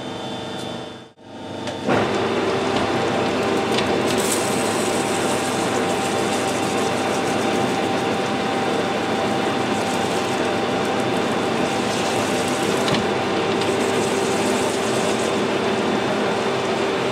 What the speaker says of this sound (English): I'll see if I can machine some of this off so I can get the onion rings out of there.